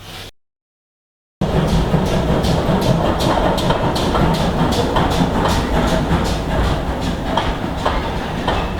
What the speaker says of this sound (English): the train's gone by again